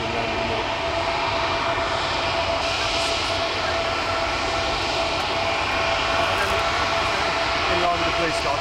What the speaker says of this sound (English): Alpha jet's just landed